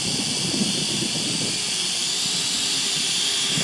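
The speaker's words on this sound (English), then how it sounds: "Oh my god, there's that drone." A Syma X8W quadcopter drone flies nearby, giving a steady, loud, broadband whirring buzz of spinning propellers that holds constant throughout.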